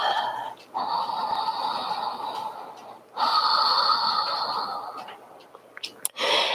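During a yoga session, a person takes deep breaths, long airy inhales and exhales heard close and clearly, two main sustained breaths separated by short pauses, ending with a brief sharp sniff.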